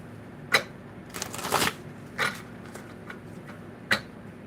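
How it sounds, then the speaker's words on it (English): Tarot cards are shuffled up close in quiet, with several short crisp riffles and flicks spaced apart, including a longer burst near the middle. "Let's shuffle it."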